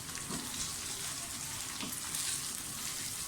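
Whole spices (cumin, cinnamon sticks, black peppercorns and cardamom) frying in hot ghee with golden-brown onions for chicken pulao, making a steady, dense close sizzle with faint crackles and no talking.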